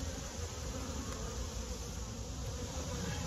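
Honey bees humming around an open hive in a backyard apiary, a dense continuous buzz of many insects, steady and close, with no voices.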